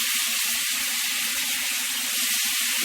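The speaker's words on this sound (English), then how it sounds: "I'm going to add my tomato slices" Tomato slices sizzle in a pan of oil left from cooking shrimp, a continuous bright hiss with a few soft low bumps underneath.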